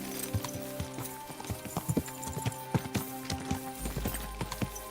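Rhythmic horse hooves clip-clopping at a steady walking pace in Kingdom Come: Deliverance II, close and clear, over a low background of game music.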